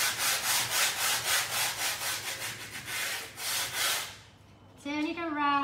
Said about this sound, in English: But I'm going to sand so that you can see what's happening.